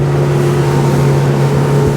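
A motorboat engine drones loud and steady through a turn, a constant low hum with wind and water noise on top and no voices.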